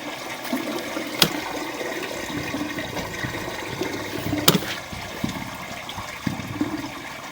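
Water rushing through a residential drain pipe in surges, a steady hollow wash with a couple of sharp knocks and gurgles, heard close inside the plumbing with no talking.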